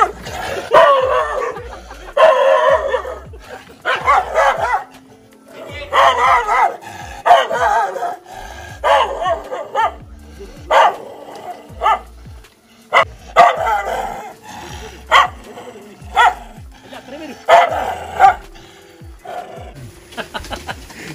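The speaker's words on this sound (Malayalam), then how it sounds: "അതാ ഒരു നാടൻ പട്ടി, ഭയങ്കര കടിയ." A native Indian dog barks aggressively in loud, close, repeated bursts with growls between them, the barks coming in irregular clusters.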